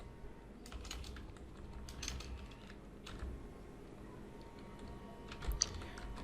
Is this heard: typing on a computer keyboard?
yes